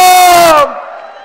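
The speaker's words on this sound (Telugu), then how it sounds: "ఆంధ్రప్రదేశ్ రాష్ట్ర ముఖ్యమంత్రి వర్యులు నారా చంద్రబాబు నాయుడు గారికి ప్రత్యేక అభినందనలు గట్టిగా చప్పట్లతో తెలియజేయాల్సిందిగా కోరుతా ఉన్నాం." A crowd at a TDP speech event at the statue of Amarajeevi Potti Sriramulu roars with loud cheering voices, then the shout cuts off sharply and a faint murmur lingers.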